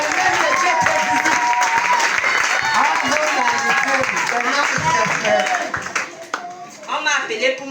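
Applause from a congregation at a church worship service, a steady wash of clapping sustained throughout and thinning briefly toward the end, with voices and a speaking voice mixed underneath.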